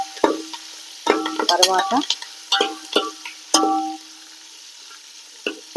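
Chopped onion and curry leaves stirred in sizzling hot oil: bursts of frying hiss with scraping stir strokes and clinks from a ladle, while a voice speaks briefly in between.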